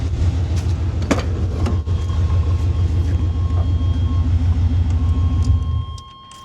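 A 1990 Chevy shortbed pickup engine idles loud and close with a steady low rumble and a few clicks, then cuts off near the end and leaves a quiet tone behind.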